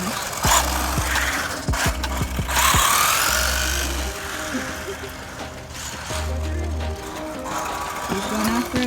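A Wltoys 144001 RC car's electric motor revs in repeated short bursts of buzzing whine during outdoor driving, with voices and outdoor noise around it.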